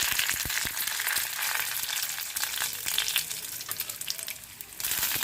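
Mustard seeds, lentils and dried red chillies frying in hot oil, a dense crackling sizzle with sharp pops and occasional stirring scrapes throughout.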